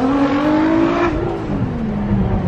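A LaFerrari pulls away from a car meet, its engine note climbing steadily in pitch under hard acceleration, loud and close, with no talking over it.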